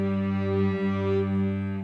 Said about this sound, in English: Let's just use an octave G for that one.